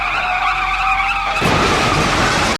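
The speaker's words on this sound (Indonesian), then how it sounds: "Ketika mobil pembawa uang lewat, mereka langsung menabraknya." Car tyres skidding hard during an action-movie crash into a money transport truck, a loud screech with a rough roar that switches abruptly to harsher noise midway before cutting off.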